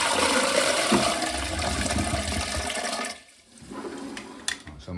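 A newly installed toilet flushes after its tank refills, a loud rushing gurgle of water that drains away, briefly quiets, then resumes as the cistern starts refilling with a hiss.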